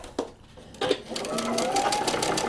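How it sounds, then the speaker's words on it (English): A sewing machine stitches through a paper-pieced quilt block, a steady mechanical whir starting after brief handling noises and running continuously at close range. "We're going to start stitching on the extended line"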